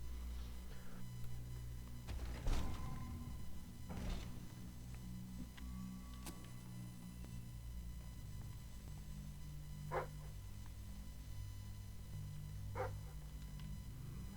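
A dog in Fable 3 barks a few times at a moderate distance, with scattered yips spread across a long stretch of quiet game ambience.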